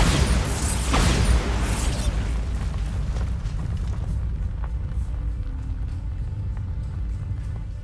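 A Bombarda spell explosion in Hogwarts Legacy bursts loud and close at the start, then rumbles and fades into quieter game ambience with faint clicks.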